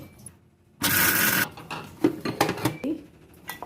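A mixer grinder whirs in one loud, close burst of just over half a second while grinding ingredients for vada, framed by quieter kitchen clatter and a voice speaking.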